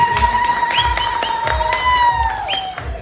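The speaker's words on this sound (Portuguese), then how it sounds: "Uma salva de palmas para ele." An audience gives a round of applause for the organizing group, steady clapping running for several seconds with voices and a sustained tone sounding over it.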